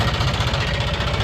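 A tractor engine idles on a ghat road at night with a steady, rough, pulsing chug, close and loud.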